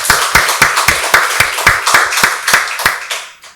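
A church congregation at a Sunday worship service claps together in a loud, rhythmic, unison beat of about a dozen strong claps with no spoken voices, then fades out at the end.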